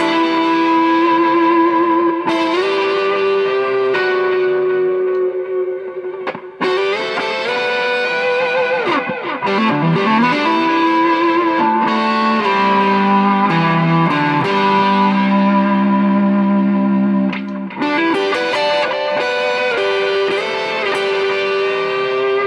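Electric guitar run through a TC Electronic Quintessence harmonizer, playing sustained harmonized notes that bend up and down under heavy distortion-like effects, loud and continuous with brief pauses and no talking.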